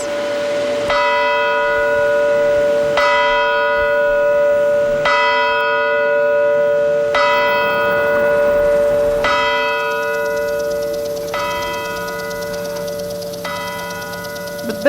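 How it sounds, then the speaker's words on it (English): City Hall clock bells chiming at midnight on New Year's Eve 1989 over empty city streets: a steady series of loud, resonant strikes about every two seconds, each ringing on with a long humming decay, with no talk. "listen to the City Hall clock chime the dawning of the 90s, a hollow sound in the empty streets"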